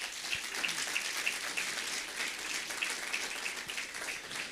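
Congregation at a Sunday church service giving applause, a soft, steady patter of many hands clapping at some distance, fairly faint and continuous with no speech over it.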